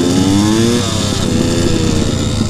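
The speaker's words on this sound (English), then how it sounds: "Just out for a little ride today with my friend, because he's just got legal on his pit bike again." A road-legal pit bike motorcycle rides on a public road, its small engine buzzing loud and close with a rising then steady whine, recorded from a nearby rider.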